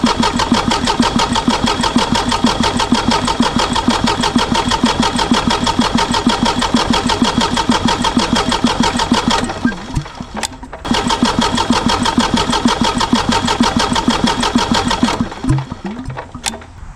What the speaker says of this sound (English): let's spin the engine over and see if we can get some coming out of the injectors